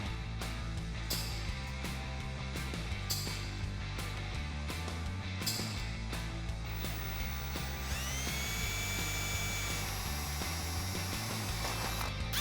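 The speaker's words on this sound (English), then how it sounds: "So what I'm doing now is just stepping up to a 5/16 inch. So I'm gonna step it up to a 7/16 inch bit." A drill with step-up bits grinds steadily through a metal bracket on a Jeep Wrangler TJ during a lift kit install, a continuous loud drone with rhythmic pulsing and a rising whine toward the end.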